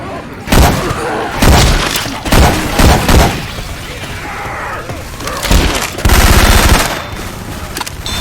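Loud bursts of rapid gunfire in Left 4 Dead 2 using Syphon Filter weapon sound effects, several separate volleys with short pauses between them, and a longer sustained burst near the end.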